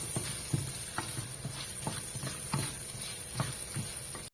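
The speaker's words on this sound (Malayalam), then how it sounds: "ഇതിനി നന്നായിട്ടൊന്ന് മൂപ്പിച്ചെടുക്കണം" Coconut pieces fry in a pan for Kerala-style beef ularthiyathu, a constant crackling sizzle broken by repeated scraping clicks of a spoon stirring at an uneven, steady pace.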